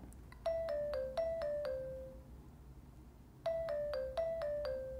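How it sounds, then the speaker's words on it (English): A phone alarm ringtone, the Android "Hangout" sound, plays two bursts of bright descending chimes separated by a quiet pause, over faint background hiss. "And there's the ringtone."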